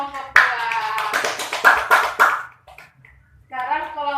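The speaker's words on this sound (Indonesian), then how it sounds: "tepuk tangan untuk kelompok 2" Children in a primary school classroom clap for a group, a burst of dense, near applause over about two seconds, then a teacher's voice speaking afterward.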